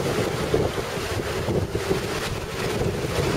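A ferry crossing waves between Donggang and Xiaoliuqiu, with a steady rushing roar of water and engine mixed with wind buffeting the microphone, close and continuous.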